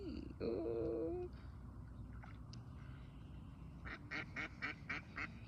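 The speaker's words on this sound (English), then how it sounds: "Quack. Quack. What did the duck say?" Ducks being fed crackers outdoors quack faintly: a short honking call early on, then a quick run of several quacks after a quiet pause.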